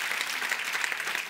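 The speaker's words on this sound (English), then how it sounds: "Let's give her a round of applause." Church congregation applauding at a Sunday service, a steady dense wash of many hands clapping close by, continuous and bright for a short burst with no talk over it.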